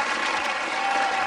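Brief burst of steady applause, a dense wash of clapping heard alone at moderate level for just over a second.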